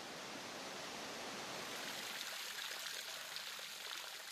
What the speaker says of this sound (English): The diversion for the waterfall at the head of the tunnel has begun to flow into the cutting below the upper spiral bridge.